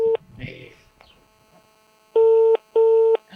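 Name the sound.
telephone ringing tone during a call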